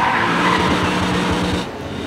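Tires squealing loudly as a Lexus IS 500 slides sideways, a sustained skid with engine rumble that eases off near the end.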